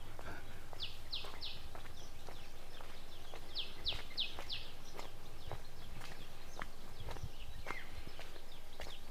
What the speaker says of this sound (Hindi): सिर्फ पक्षियों की और पेड़ों की आवाज़ आ रही जो हवा चलती है वो